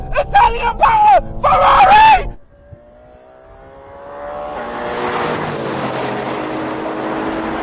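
A Ferrari, apparently a Purosangue SUV, accelerates in a drag race against Urus SE, Cayenne Turbo and RSQ8 Performance, its engine note rising and swelling from far to near as a broad roar after excited shouting fades out.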